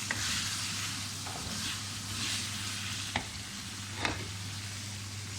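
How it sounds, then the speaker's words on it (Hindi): Masala for Hyderabadi chicken karahi sizzles steadily in a pan as tomatoes go in and are stirred, with a couple of sharp spoon knocks against the pan's side and no talking. "इसमें हम टमाटर डाल लेते हैं।"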